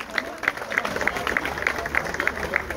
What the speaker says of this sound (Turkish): kocaman alkışlar bu güzel tasarım için